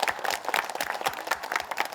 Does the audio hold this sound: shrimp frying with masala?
no